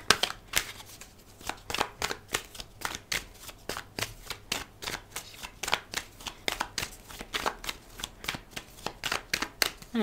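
Tarot cards are shuffled in steady, repeated riffles and slaps, a quick rhythmic flutter of card edges close by, continuing without pause.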